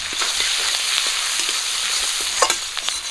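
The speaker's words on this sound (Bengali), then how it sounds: "পেঁয়াজ আর কাঁচা লঙ্কা একটু লাল করে ভাজা করে নেব" Chopped onion and green chillies frying in oil in a pan after rohu fish, a steady close hiss and crackle with a few light stirring scrapes and taps.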